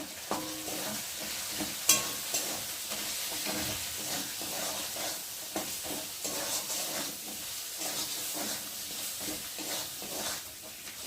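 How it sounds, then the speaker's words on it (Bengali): A spice paste of ginger paste, cumin paste, turmeric, salt and slit green chillies frying in a pan, with a steady sizzle under frequent scraping stirs and occasional louder clanks of the spoon, heard up close. "মশলাটা ভালো করে ভেজে নেব"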